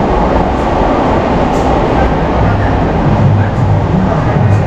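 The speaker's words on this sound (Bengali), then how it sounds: "এটা হচ্ছে ঘাটশিলা স্টেশন" A train at Ghatshila railway station rumbles loudly and steadily, a dense, continuous roar of wheels and carriages close by throughout, with no talk.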